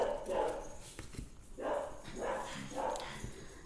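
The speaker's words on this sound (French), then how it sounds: "c'est mon chien." A pet dog gives a few loud barks and whimpering yips spaced through the moment, fairly close, with faint room noise between them.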